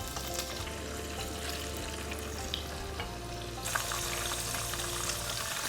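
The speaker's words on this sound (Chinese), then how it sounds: "就这样开着小火慢慢煎" Tofu slices pan-frying in rendered lard over low heat in a flat pan, giving a steady, even sizzle with faint crackles that carries on without pause, no voices.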